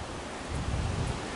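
Joshua Creek flowing along a hiking route, a steady broadband rush of water that swells slightly midway, fairly low in level, with no voices.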